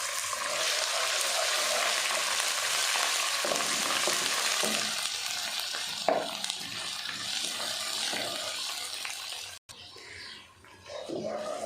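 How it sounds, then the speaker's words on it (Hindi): Ginger garlic paste sizzles and fries with onions in a pan for kadhi pakoda, a steady close hiss with occasional stirring scrapes and a brief pause near the end. "लहसुन अदरक को हमने 2 से 3 मिनट अच्छे से फ्राई कर लिया है प्याज के साथ"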